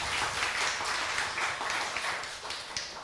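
A church congregation gives warm, steady applause welcoming returning visitors, dense clapping filling the room without a break for a few seconds.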